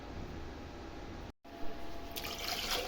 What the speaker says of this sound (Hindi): दूध डाल दिया हमने जग में